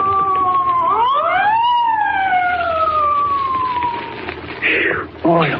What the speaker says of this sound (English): Spike, there's a police car coming up.